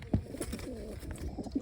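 Pigeons coo softly in a low, throaty murmur, with a few short repeated calls close by over a faint background of rustling and handling noise.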